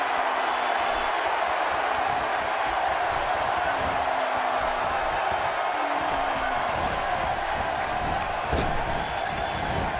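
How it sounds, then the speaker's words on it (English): A Milwaukee arena crowd in the WWE 2K18 wrestling video game gives a steady, distant roar of cheering that holds constant throughout, with no clear individual voices. "by the sound of this Milwaukee crowd, they already know who they want to win"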